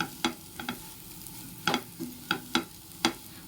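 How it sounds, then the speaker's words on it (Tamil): Cauliflower varuval frying in a little oil in a pan is stirred with a spatula, giving several sharp scraping strokes over a soft, low sizzle, close and without talk. "ஒரு 5 நிமிஷத்துக்கு ஒரு வாட்டி இந்த மாதிரி நல்லா கிளறி விட்டுட்டு மூடி போட்டு வேக வைங்க"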